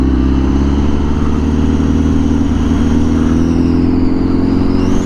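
A Honda Fireblade 1000RR-R SP motorcycle engine roars loud and close in a steady, unbroken drone, the pitch lifting slightly near the end as the throttle opens.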